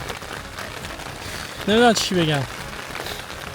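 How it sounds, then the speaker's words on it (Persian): Heavy rain patters steadily and densely on a surface outdoors in the Arctic. A person talks briefly over the rain in the middle. "بارون هم داره شدیدتر میشه"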